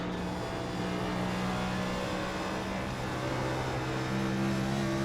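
A NASCAR Cup race car engine in the iRacing video game at Rockingham, heard as a steady, loud, sustained drone at high revs throughout, with no talking.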